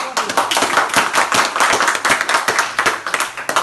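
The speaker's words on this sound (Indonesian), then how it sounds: "Tepuk tangan buat dia." Several people clap their hands in quick, uneven bursts close by, a bright flurry of claps that keeps going for a few seconds with brief voices mixed in.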